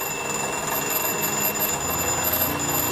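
An alarm clock rings continuously at a steady moderate level, with a bright electronic tone that stays constant throughout.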